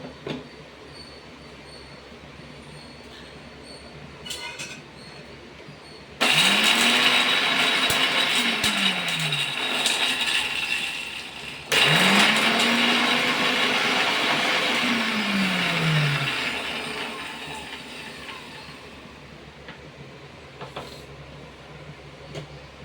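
A kitchen mixer grinder whirs loudly in two bursts of several seconds each while making rasam, its motor pitch climbing then dropping as it spins up and winds down.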